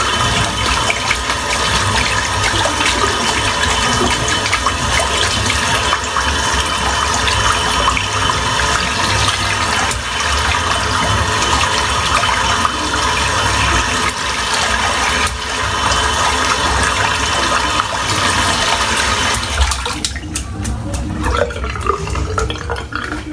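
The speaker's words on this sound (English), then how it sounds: "I'm just going to rinse this brush out, which is just chockers full of lather" Tap water pours steadily for about twenty seconds, rinsing thick lather out of a 26mm synthetic shaving brush. The loud, continuous splashing changes texture near the end as the brush is moved under the stream.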